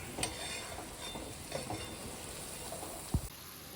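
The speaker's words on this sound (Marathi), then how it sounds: "कमी गॅसवरती मसाला चांगला भाजून परतून घ्यायचा" Masala spices roasting in oil over a low gas flame: a soft, steady sizzle with occasional light stirring scrapes and one sharper clink near the end, fairly quiet and with no talk.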